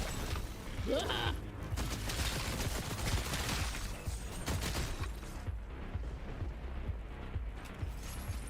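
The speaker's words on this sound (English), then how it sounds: "Somebody's shooting at me." Video game gunfire, a dense, continuous barrage of overlapping shots and rumbling blasts that fills the whole stretch at steady loudness.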